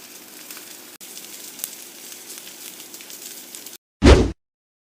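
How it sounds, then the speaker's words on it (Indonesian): Egg-dipped Palembang fish balls fry in hot oil, giving a soft, steady sizzle for several seconds that cuts off abruptly, followed by a short loud burst of spattering sizzle. "Panaskan minyak, pentulnya kita cocol dengan kuning telur. Lalu goreng hingga kuning keemasan."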